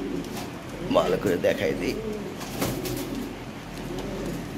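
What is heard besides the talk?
Lahori Sirazi pigeons cooing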